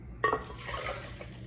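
Coffee splashes into a NitroBrew kettle, an abrupt liquid pour that starts sharply and continues as a steady trickling fill, close and moderately quiet.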